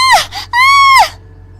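A woman lets out two loud, drawn-out, high cries of pain in a kitchen as the end of her sari catches fire from a stove. The second wail holds steady before cutting off.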